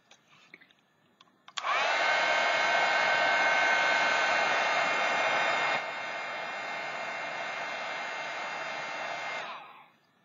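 A heat tool blows steadily to set a tube of paint on a pop can Christmas ornament, a loud continuous whoosh that starts abruptly, drops slightly partway through and then cuts off, with no talking.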